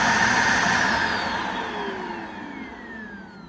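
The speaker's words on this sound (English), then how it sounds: "this is the new version that has poor suction or has no suction and makes a very loud, high-pitched noise when you turn it on" Shark Lift Away vacuum cleaner with poor or no suction, running with a loud, steady high-pitched whine and a rushing airflow hum, close by with no talk.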